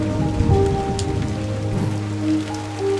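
Steady rain hisses down in the video game Islets, a dense patter beneath sustained musical tones, with no voices.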